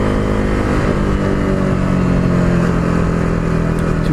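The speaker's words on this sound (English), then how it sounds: "That single cylinder just giving you the power." A KTM RC390 single-cylinder motorcycle engine pulls hard under acceleration, a loud, rasping buzz heard from close by that rises and holds steady over a few seconds, with road and wind noise mixed in.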